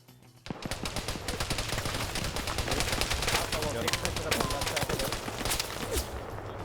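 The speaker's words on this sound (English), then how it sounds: "Shooting in the valley." Dense, sustained video-game gunfire in a tactical squad shooter, many rapid cracks and bursts layered over one another from near and far, with distant rumble underneath, after a brief quiet opening.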